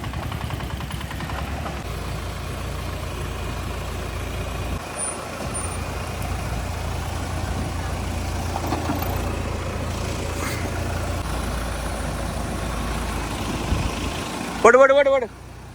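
A vehicle engine rumbles low and steady as it drives up to a riverside campsite, continuous through the stretch with a louder burst near the end, while people talk over it.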